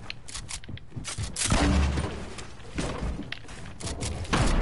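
Grenade launcher fire in an online shooter video game: dense volleys of thumping shots and blasts overlap in a loud, continuous barrage.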